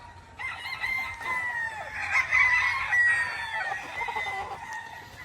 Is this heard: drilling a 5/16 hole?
no